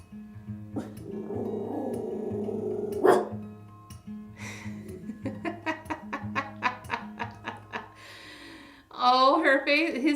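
A small dog barks in a rapid series of sharp, close yaps with growly edges, rising to a loud burst near the end over a low background hum.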